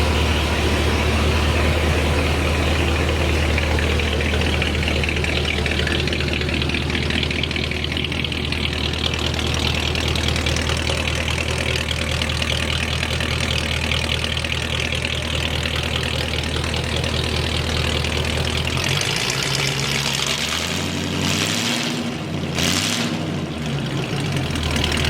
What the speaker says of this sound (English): Wow, that is that hot rod sound. Yes, the flathead.